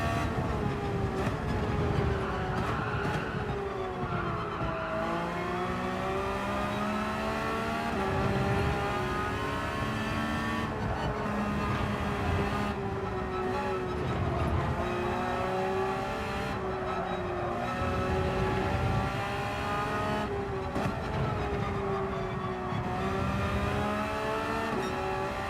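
Race car engines in the Gran Turismo 7 game, a steady loud drone with rising and falling harmonic revs as cars accelerate and shift through a race, continuous for the whole stretch with no talk.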